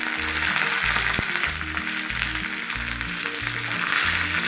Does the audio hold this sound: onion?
yes